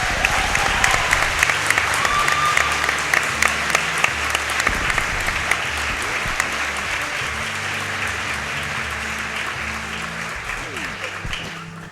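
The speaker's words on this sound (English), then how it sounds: "let's give Oatsngoats a big round of applause" Sustained audience applause and cheering for a Super Metroid speedrunner at Summer Games Done Quick 2015, a dense steady roar of many clapping hands from a large crowd, continuing unbroken with scattered louder claps.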